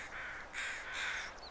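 Crows caw in the snowy wilderness of the video game The Long Dark, three harsh drawn-out calls spaced apart at moderate distance, fairly faint, with no talking.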